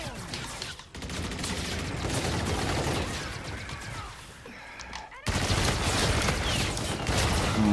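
Gunfire in Call of Duty: Infinite Warfare, continuous rapid automatic bursts with brief gaps, loud and close, mixed with game clatter.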